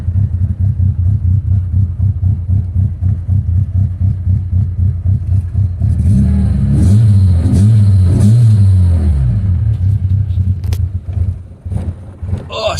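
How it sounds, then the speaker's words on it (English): A tinkered Volkswagen Jetta engine idling with a lumpy, pulsing cam rhythm, then revving up and falling back, loud and close with wind buffeting the microphone. "Oh, listen to the cam."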